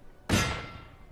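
A single loud cannon artillery shot from the Napoleon Total War battle game, a sharp booming blast that dies away quickly into a fading rumble.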